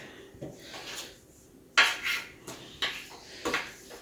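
A kitchen knife slices through cinnamon roll dough on a board, giving a handful of sharp, close scraping taps and rasps spaced irregularly, with no talking.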